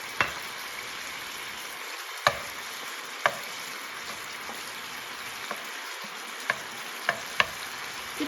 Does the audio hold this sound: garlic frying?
yes